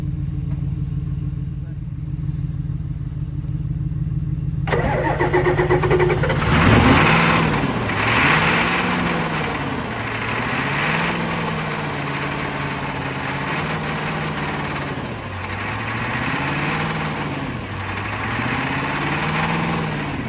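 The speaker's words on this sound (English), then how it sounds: "give the Crown Vic some throttle and some ether" A Ford Crown Victoria engine catches after being fed ether, then runs loud and close with a rising and falling throttle, its revs swelling in slow repeated waves over a steady hum.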